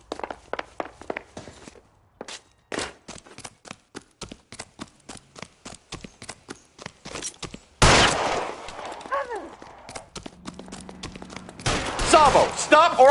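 Gunfire in the LA Noire video game, a rapid run of sharp shots and clicks that pauses, then dense louder bursts of firing mixed with shouting voices and scuffling.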